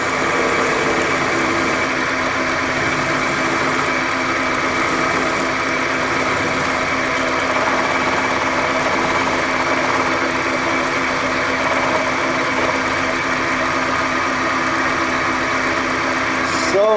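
A wood lathe turns a punky sycamore pedestal bowl while a skew chisel, point down, cuts it, giving a loud, continuous motor-like drone that holds steady throughout.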